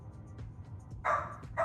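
A dog barking from across the street, two short bursts of barks, faint and distant over a low background rumble.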